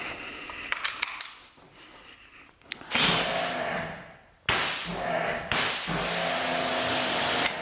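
A hose spray rinses a car inside a home garage with drywall walls and ceiling, coming in loud hissing bursts after a quiet start with a few clicks and handling noises, then cutting off briefly before starting again.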